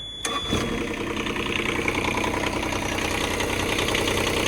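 A micro digger engine cranks briefly, catches, and settles into a steady, chugging idle close by, running evenly to the end.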